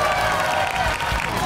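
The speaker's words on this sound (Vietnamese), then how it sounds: "Vỗ tay." Studio audience applause on a Vietnamese TV charity show, a steady dense wash of clapping sustained throughout with faint background voices.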